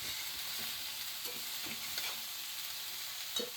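A vegetable bhaji fries in a pan with a steady, fairly soft sizzle and occasional stirring scrapes and taps, close by, with no one speaking.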